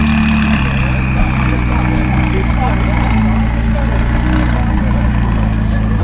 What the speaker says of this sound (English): Matt's McLaren sounding nasty